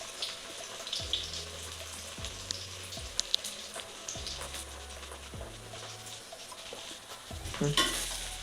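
Water spinach fritters frying in a pan, a soft steady sizzle with a spatula scraping and clinking against the pan several times, one brief louder rattle near the end, no talk.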